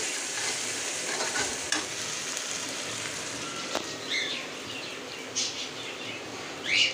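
Onion frying in a pan, with a steady close sizzle throughout and occasional scraping stirs; faint bird chirps in the background and no talking.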